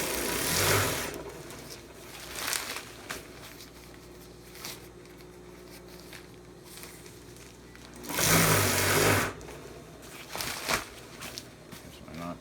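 Sewing machine stitching a 5x8 tarp, running in short bursts of loud mechanical whirring with quieter handling and pauses in between.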